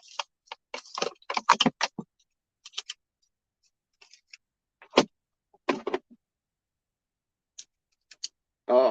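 Irregular clusters of keyboard typing, a fast burst at the start and then scattered single key taps with gaps, close and crisp in an otherwise silent room, ending in a short voice.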